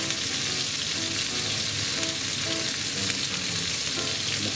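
Pieces of spicy cheese chicken sizzle and fry in a hot skillet, a continuous, even crackle and hiss that stays close and steady throughout with no talking.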